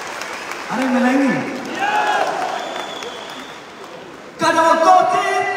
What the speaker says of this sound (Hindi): तालियां मिलेंगी।